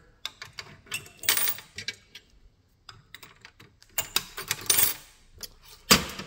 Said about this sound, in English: There's a little hook in here to hang that key on, or the two keys on.